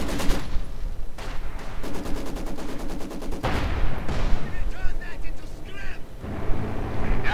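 StuG assault guns and tanks fire in the Company of Heroes 2 battle, with rapid machine-gun bursts and repeated cannon blasts layered densely under continuous commentary.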